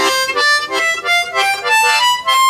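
Blues harmonica played single notes with the tongue-block method, a bright, buzzy reed tone in a run of short separate notes, close up and unaccompanied.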